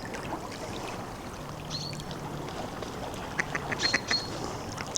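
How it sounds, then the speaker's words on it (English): Ducks quack a few times, light and scattered, over a constant outdoor wash of flowing water. "And there's some lovely little ducks there this morning."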